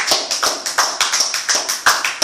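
A church congregation claps in acclaim of Jesus, a brisk rhythmic run of about a dozen loud, close claps in even time, with no voices.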